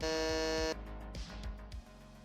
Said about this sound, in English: Ricky was first to buzz in